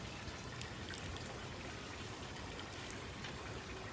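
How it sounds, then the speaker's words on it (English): Water squeezed by hand from a soaked plant root ball trickles and drips in a steady, faint stream up close, with no voices. "you take and you squeeze out the water"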